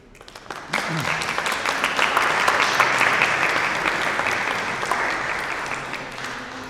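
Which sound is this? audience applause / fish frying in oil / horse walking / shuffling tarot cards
audience applause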